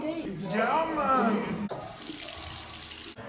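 A tap running into a sink in a school setting, a steady splashing stream with a brief pause and restart, while young voices talk loudly over it.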